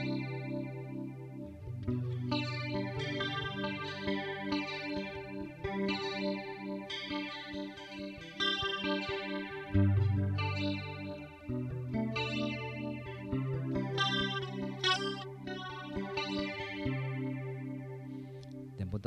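Electric guitar played through an M-Vave Tank G multi-effects unit on a modulation patch with amp simulation and no reverb: steady chords and notes ring continuously for about nineteen seconds with a shimmering, chorus-like wobble, loud and close.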